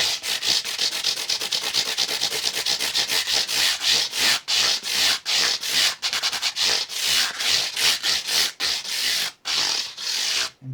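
Sandpaper rubs rapidly back and forth over guitar frets, giving close, loud rhythmic scratchy strokes with brief pauses, and no voice is heard.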